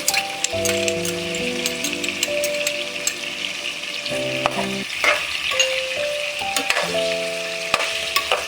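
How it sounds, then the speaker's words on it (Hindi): Steady crackling sizzle of ginger garlic paste frying in a pot for nihari, with occasional stirring clinks and scrapes, while soft background music plays. "अब हम इसके अंदर अदरक लहसुन का पेस्ट डाल देंगे।"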